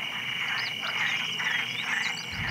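Tree frogs call in a dense, rapid chorus of rattling croaks against a steady buzzing night background, moderately loud and continuous.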